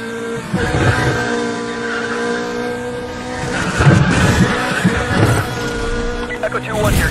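Exotic cars race in the video game Need for Speed The Run, engines roaring steadily with tire squeals and skids, while voices talk over the driving throughout.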